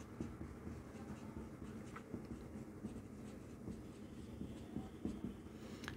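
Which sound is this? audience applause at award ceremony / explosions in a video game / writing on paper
writing on paper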